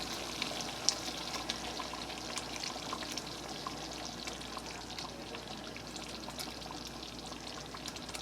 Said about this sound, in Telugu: లాస్ట్గా మనం పైన కొంచెం ఫ్రెష్ క్రీమ్ వేసుకోవాలి.